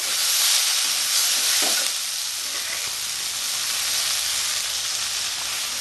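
Okra and onions sizzle steadily while being stirred in a frying pan for a Bengali-style bhindi pyaz, a constant close hiss of hot oil with faint scraping movement throughout.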